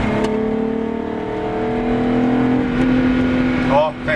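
A VW Golf VR6 accelerates hard through a bend, its engine giving a close, steady drone that builds slightly in pitch over about four seconds and dips briefly near the end.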